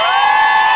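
Game show audience cheering in a short burst of loud, sustained whooping and shouting from a crowd, with no other sound.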